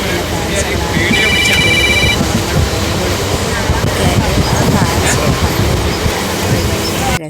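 Passenger train moving along its route past rivers and waterlogged land, a continuous close rattle and rumble of the carriage with some faint tonal beeps early on.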